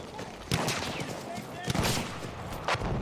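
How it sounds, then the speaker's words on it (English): Scattered gunfire in the World War I shooter Battlefield 1, a few sharp cracks amid a continuous battlefield din, with a voice speaking over it. "Who's shooting at me?"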